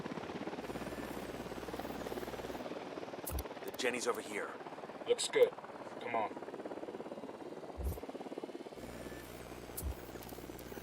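A helicopter drones steadily in Ghost Recon Wildlands, a low continuous rotor hum under several bursts of close male speech, pausing briefly in the middle before returning.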